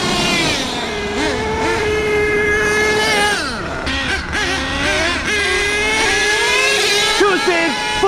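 A Traxxas T-Maxx 3.3 nitro engine revs in sharp rising and falling bursts with a brief stutter, loud and close throughout, while a voice talks over it.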